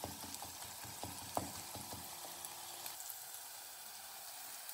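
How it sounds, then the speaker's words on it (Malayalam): Onions sautéing in a clay pot for a prawn dish, a faint, steady sizzle with light scraping stirs early on, then a quieter, even frying hiss. "അപ്പം നമ്മുടെ ഉള്ളി നന്നായിട്ട് വഴന്ന് വന്നിട്ടുണ്ട്."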